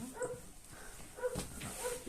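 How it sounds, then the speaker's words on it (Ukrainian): A dog in a home kitchen where homemade sausage is being prepared lets out a few short, fairly faint barks and yips in quick succession, with a low voice faintly underneath. "Що ти гавкаєш?"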